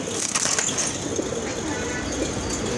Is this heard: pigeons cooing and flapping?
yes